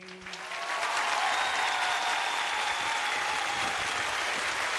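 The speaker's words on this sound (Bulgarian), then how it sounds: "Аплодисмент за него!" A studio audience bursts into applause after a sung performance on a TV impersonation show, a brief lead-in building quickly into loud, sustained, even clapping that continues throughout.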